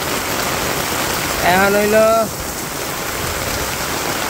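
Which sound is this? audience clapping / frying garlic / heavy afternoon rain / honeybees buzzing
heavy afternoon rain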